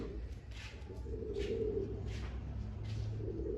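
Pigeons at a home loft coo steadily in soft, repeated low rolling calls, several birds overlapping close by against a constant background hum, with no one speaking.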